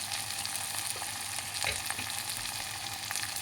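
Onions fry with salt in a pan for a curry, giving a continuous crackling sizzle with small pops and stirring scrapes, fairly close and with no voices.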